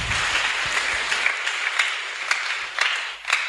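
Audience applause at a district official's opening ceremony in Igunga, Tanzania: a dense, continuous patter of many hands clapping, moderately close and steady for the whole stretch, with a few louder individual claps standing out.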